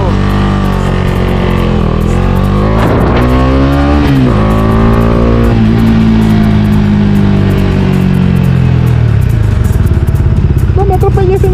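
A car passes very close on a street, its loud engine rising in pitch then falling away as it goes by, with clattering traffic noise and people talking over it.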